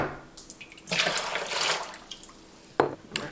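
Water is poured by hand into a container while measuring quarts for preserving eggs, a close splashing stream that swells, tapers off, then starts again in a brief second pour.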